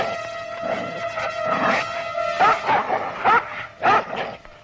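Dogs bark, yip and whine as they fight, a series of sharp high-pitched barks and yelps growing more frequent toward the end, close and fairly loud over a steady tonal background hum.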